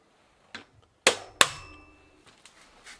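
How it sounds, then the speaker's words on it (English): A few sharp metallic hammer strikes during work replacing the front fork of a Batavus Touring bicycle, with two loud ringing blows close together after a lighter tap, each leaving a brief clanging resonance in a quiet room. "I need my hammer."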